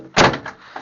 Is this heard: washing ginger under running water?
no